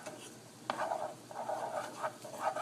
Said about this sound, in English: Go ahead and sweat your onions, because this is what you want.